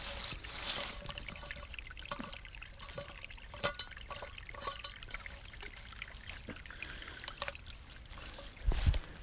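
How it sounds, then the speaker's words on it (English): Water trickles and splashes into a camping pot outdoors, a quiet uneven pour with small drips and a clunk near the end. "All right, water in the pot."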